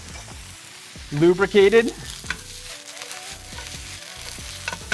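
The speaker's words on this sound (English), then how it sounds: "Getting some nice browning on these mushrooms" Mushrooms fry in olive oil with a continuous close sizzle, while a voice briefly speaks over it near the start before the crackling carries on alone.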